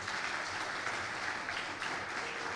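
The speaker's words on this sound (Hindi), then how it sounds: "जोरदार तालियां खुदावंद यीशु मसीह।" Steady, dense applause from a church congregation during a Hindi-language worship service, loud and continuous throughout with no gaps.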